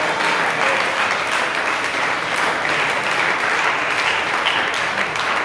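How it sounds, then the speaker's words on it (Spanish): A church congregation applauds during a sermon, a sustained, loud and even roar of many hands clapping together, continuous from start to finish with no voices standing out. "Démosle un aplauso al Señor"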